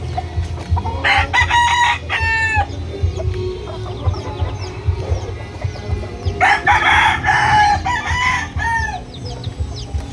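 A ten-month-old yellow-legged fighting rooster crows loudly twice, close by, with clucking and other fowl sounds in between.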